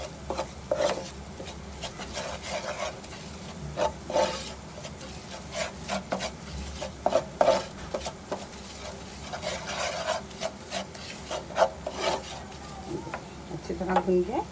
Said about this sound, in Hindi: फिर 2 मिनट तक आप इसको धीमी आंच पे भून लें।